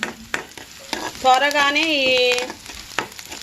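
Tempering spices sizzle in hot oil in a pan for tomato dal, a close, steady frying hiss under brief speech and a drawn-out voiced sound.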